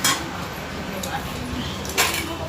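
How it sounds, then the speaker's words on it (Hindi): A knife cuts salad in a home kitchen: a few sharp clicks and taps against a board or plate, spaced about a second apart, with voices and household noise in the background. "सलाद अब मैं काटूंगी"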